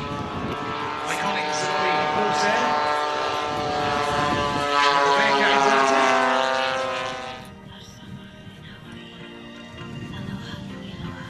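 Large 1:5 scale model aircraft built from Nick Zeroli plans, flying at the Weston Park model airshow: a steady, loud propeller-engine drone with shifting pitch that holds for about seven seconds, then drops to a quieter background hum.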